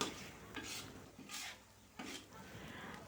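Spice paste stir-fried over low heat in a pan for crispy potato mustopa, heard as soft scraping and rubbing strokes of a spatula, repeating every second or so, close and fairly quiet.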